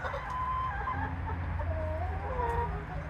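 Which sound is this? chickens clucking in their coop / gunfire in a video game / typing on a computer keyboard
chickens clucking in their coop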